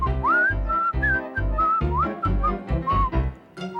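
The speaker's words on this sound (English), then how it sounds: "Ronald suddenly found that the Tic-Tic bird's whistling really annoyed him." A cartoon Tic-Tic bird whistles a bouncy, repetitive tune in clear, high, sliding notes, set over a steady rhythmic musical accompaniment.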